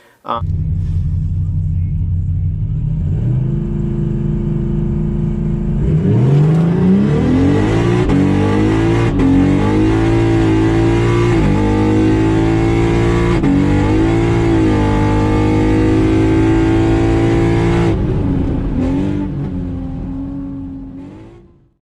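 A drag racing car engine idles with a deep rumble, then revs hard and accelerates down the track through several gear shifts, roaring loudly before cutting off.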